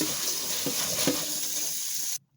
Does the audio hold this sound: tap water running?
yes